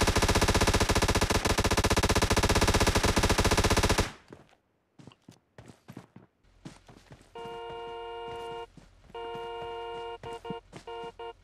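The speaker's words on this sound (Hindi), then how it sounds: "रुक अबे काल गोली चला रहा" Rapid automatic gunfire in the PUBG video game rattles loudly for several seconds, then breaks into scattered single shots, followed by repeated electronic chiming tones, with no talking.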